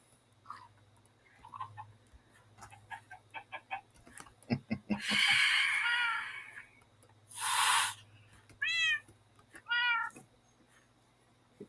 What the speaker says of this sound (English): Cat hissed at the phantom.